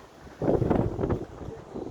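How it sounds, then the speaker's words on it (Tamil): Wind blows across an open hillside near a hill station, a rough gusty rumble that swells suddenly, holds steady for about a second, then eases into a softer whoosh. "இந்த காற்றுக்கு அந்த பெண்ணின் உடை ஆடுவதே சான்று."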